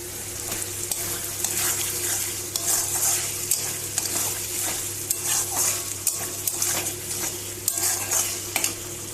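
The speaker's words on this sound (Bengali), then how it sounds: "মশলাটা সব টমেটো আর মটরশুঁটি দিয়ে কষিয়ে নেব" A spice masala with tomatoes and peas sizzles steadily in a pan while a utensil scrapes and stirs it, giving rhythmic clinks and scrapes over the constant frying hiss. No voices.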